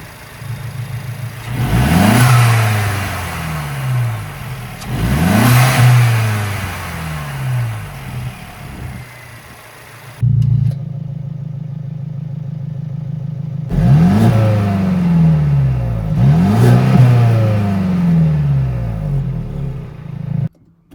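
A Mercedes-Benz SLC R172 roadster in sport plus mode, exhaust flaps open, revs loudly and close: four sharp throttle blips climbing and falling back with crackling overrun, separated by a steady idle, no talking over it.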